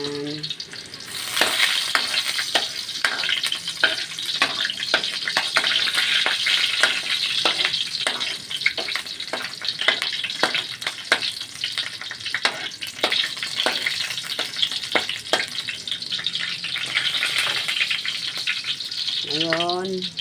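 Garlic sizzles steadily in a hot pan with squash and string beans already in it, the constant frying hiss broken by frequent scraping strokes of a spatula as it is stirred, close and fairly loud, with a brief voice at the start and end.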